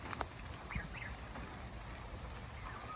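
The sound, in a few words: geese honking among chickens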